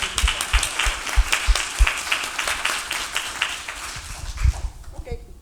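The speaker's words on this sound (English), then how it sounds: "Just a minute to applaud the team." An audience applauds a team at an academic talk, with steady, loud clapping close by that thins out and fades toward the end.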